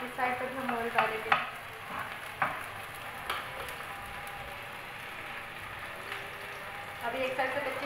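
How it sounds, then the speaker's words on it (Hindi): Corn flour roti (makki ki roti) cooking in oil on a hot iron griddle, giving a continuous soft sizzle with occasional louder crackles and pops, while a voice talks faintly at times. "ऑयल को हम साइड से भी डालेंगे क्योंकि तवा यूज होके दरमियान से ज़रा से ऊपर हो गया, इस साइड पर भी हम ऑयल डालेंगे"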